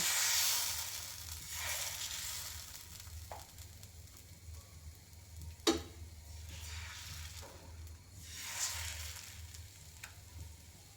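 Balish pitha, a Bangladeshi pitha, frying in a pan: a continuous soft sizzle with swelling hiss and a few sharp clinks, no voices.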